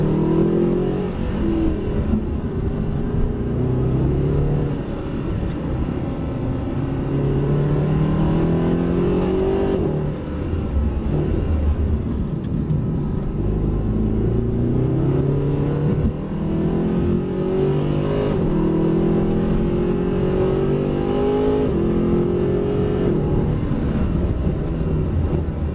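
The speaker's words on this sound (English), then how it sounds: "the blips just stop the car from jerking on the downshift" Mercedes SLS AMG on a track, its engine revving hard through repeated gear changes with throttle blips on downshifts, a loud continuous rising and falling roar heard from inside the car.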